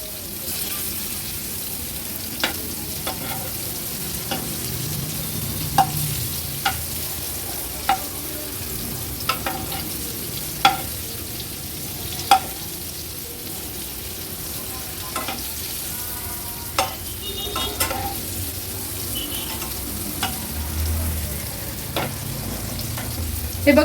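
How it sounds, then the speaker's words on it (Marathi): Stuffed bitter gourds coated in turmeric and spice masala sizzle in oil in a pan over a low flame, a steady close frying hiss punctuated by repeated sharp clicks and taps as pieces are turned. "आता गॅसची फ्लेम लो करते आणि ही कारली पलटून घेते"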